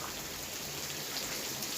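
Rain falls steadily in a dense, even hiss of drops on surfaces, close and continuous throughout the short stretch with no voices.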